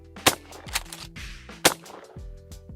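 Shotgun shots with target loads from a Mossberg 500 or Remington 870 pump-action, two sharp loud blasts with echoing tails, plus softer mechanical clacks between them, no talking.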